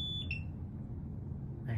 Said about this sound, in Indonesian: Nah, itu ada bunyi beep ya